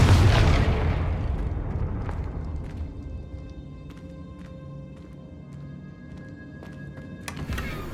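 A Confringo fire spell explodes in the Hogwarts Legacy video game, a loud close boom that fades slowly over several seconds into faint game ambience and soft tones, with a brief pop near the end.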